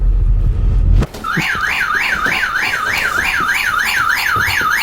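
Electronic ghost detector alarm going off inside a reputedly haunted house, a loud warbling siren that sweeps up and down in a regular, rapid cycle, starting abruptly after a thump and continuing steadily with no talking.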